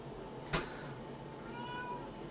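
An elderly cat, about fifteen years old, gives a single short meow at close range in a quiet kitchen, followed by a faint, thin trailing whine.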